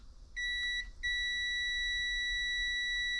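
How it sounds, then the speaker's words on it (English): A multimeter in continuity mode gives a steady high electronic beep while testing a wire on a Duramax truck, briefly cut off near the start and then held on, clear and alone. "Continuity check."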